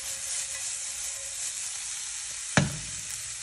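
Food sizzling steadily in a pan for a Jamaican breakfast, with a sharp clatter and a brief burst of louder frying as it is flipped partway through.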